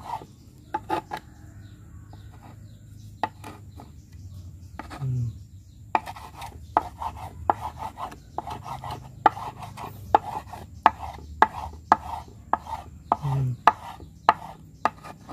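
Silkworms being finely chopped with a sharp knife on a board, a steady run of crisp close knocks after a few scattered taps, with faint background hum.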